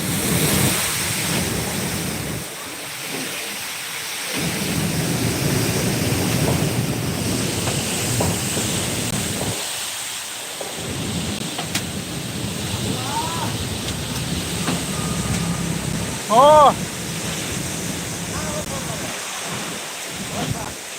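Steady rain pours down during a thunderstorm in Botad, India, with low rumbling beneath it, while a few voices call out briefly and a short whistle-like tone cuts through.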